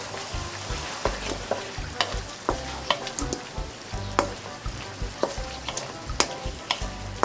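Sator beans (stink beans) stir-frying in a little oil in a pan, a continuous close sizzle broken by regular scraping strokes of a spatula, with no voices.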